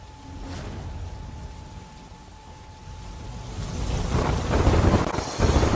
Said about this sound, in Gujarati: વરસાદ શરૂ થતાં વાતાવરણમાં ઠંડક પ્રસરી છે.